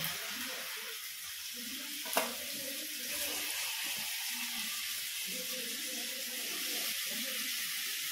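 Shrimp and fish frying lightly in a pan, with a steady close hiss and crackle of hot oil running throughout and one brief sharp clink near the start.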